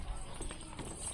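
Goat hooves tapping and scuffing on the ground as a goat is walked along, a soft irregular patter of steps under steady background noise.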